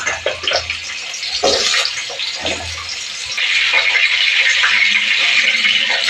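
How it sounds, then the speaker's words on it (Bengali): Potato pieces, cut for a ridge gourd and pointed gourd dish, fry in hot oil in a home kitchen: a rushing, hissing sizzle rises sharply midway and then holds steady and loud, with a few knocks and clatters early on. "সেই আলুটা আমি একটু ভেজে নেব।"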